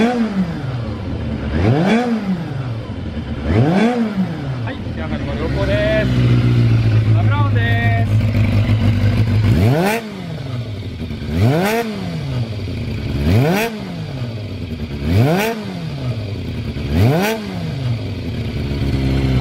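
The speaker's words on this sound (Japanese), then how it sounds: "ではエンジンの方を始動していきます。" A Kawasaki ZRX2 motorcycle with a black collector exhaust starts up and idles with a loud, close rumble, then is revved repeatedly in rhythmic throttle blips. A brief higher whine comes midway, and a voice speaks occasionally.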